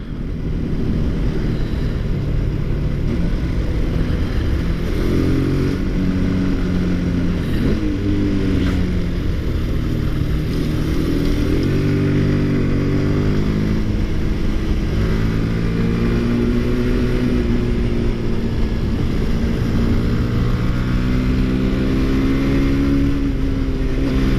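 Three 125cc sport motorcycles, a Yamaha YZF R125, an Aprilia RS4 125 and a Rieju RS3 125, drag race with loud, continuous engine drone. Overlapping rising revs and gear-change pitch steps run throughout, with no speech.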